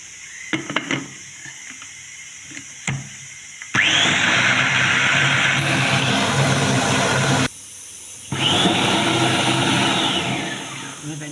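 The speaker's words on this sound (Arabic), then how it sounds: "ايوا غادي نميكسيه" An electric blender whirs loudly as it mixes avocado juice with water, running in two long steady bursts separated by a brief pause, with quieter clinks and handling noises before it starts.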